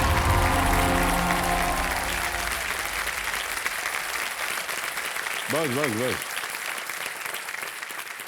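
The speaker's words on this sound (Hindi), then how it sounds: "इतनी जोर से ताली बजाया आपने" A studio audience on a Hindi television quiz show claps loudly and steadily. The applause carries a rising musical sting at the start, and a voice briefly cuts in over it.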